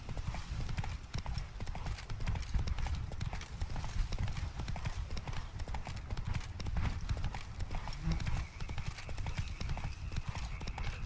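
A horse's hooves clip-clop steadily in Witcher 3: Blood and Wine, a close, continuous trotting rhythm with an occasional whinny, heard alone without talk.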